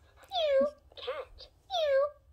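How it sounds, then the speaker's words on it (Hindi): Two drawn-out cat meows, each rising then falling in pitch, sound close and clear, separated by a short rougher meow-like call in the middle over a faint low hum. "कैट बिल्ली"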